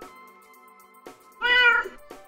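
A cat's meow played through an Amazon Echo Dot third-generation smart speaker: one clear, close, rising-and-falling meow that follows quieter speaker tones, heard alone without talk.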